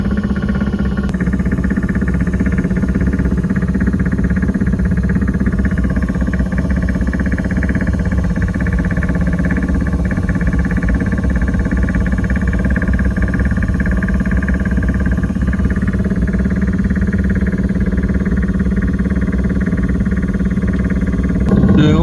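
A drilling rig bores holes into the ground at a tunnel site, making a loud, steady mechanical drone that runs unbroken from start to finish with no voices.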